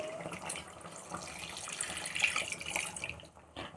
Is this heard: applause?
no